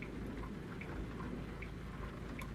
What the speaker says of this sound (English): Gosh, I wish it wouldn't be not nighttime and raining.